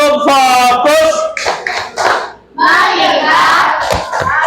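A classroom of students performs a rhythmic focus clap, loud chanted voices in unison punctuated by sharp group hand claps close by.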